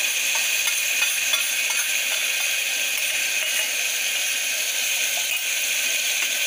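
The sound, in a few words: onion, tomato and ground masala frying in oil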